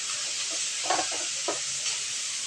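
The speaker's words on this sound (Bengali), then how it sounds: "একে একে দিয়ে দিব মাছের মাথাগুলো একটু কড়া করে ভেজে নেব মাছের মাথাগুলো" Fish heads fry in hot oil with a steady soft sizzle and hiss, broken by a few faint clinks and stirring sounds.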